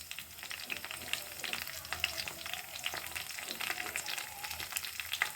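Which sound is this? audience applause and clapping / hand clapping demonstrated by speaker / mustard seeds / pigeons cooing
mustard seeds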